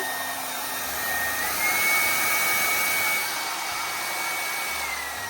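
A Bellissima Italia Diffo hair dryer runs close up with a steady whirring blow, swelling slightly in intensity partway through; no speech.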